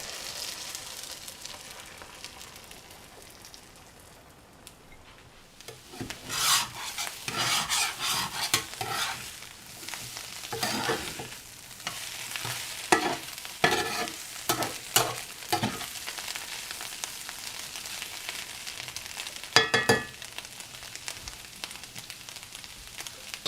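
Eggs and potatoes sizzle in a hot pan while a utensil stirs and scrapes them in repeated bursts, the frying hiss steady underneath and fairly close.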